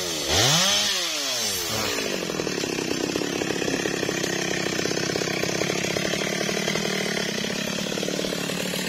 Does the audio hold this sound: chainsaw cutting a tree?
yes